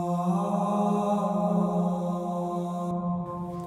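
A low, sustained sung choir bass layer of deep voices holds steady, a rich droning harmony that shifts slightly near the end.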